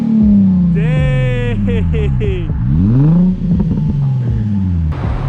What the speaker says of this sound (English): So in case you guys are wondering what exhaust setup he's running, it's a Megan Racing single exit exhaust